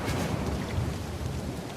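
Steady rain pours with low rumbling thunder in the Uncharted 4 video game, a dense continuous wash of sound with no voices.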